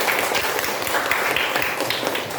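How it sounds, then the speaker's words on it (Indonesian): A classroom of pupils claps together, a dense, even burst of many hands that fills the whole moment, loud and close, with no voices over it. "Tepuk tangan."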